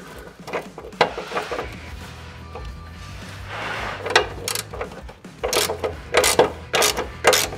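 Ratchet turning out the last bolt on a Lexus GX470 side step, giving close mechanical clicking in short bursts with metallic taps and a few pauses in between.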